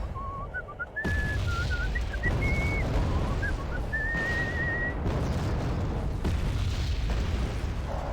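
Artillery shells in the war strategy game Wargame: Red Dragon whistle overhead in rising and falling tones over a steady rumble of distant explosions and battle noise.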